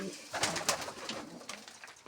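A pair of pigeons coo faintly close by, soft murmuring calls mixed with small scattered clicks and rustles, with a voice faintly in the background.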